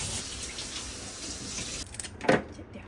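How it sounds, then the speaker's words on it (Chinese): Loquat leaves are washed under a running kitchen tap, a steady close hiss of water that breaks up into splashing near the end. "把枇杷叶也洗一下，枇杷叶上面都有很多毛"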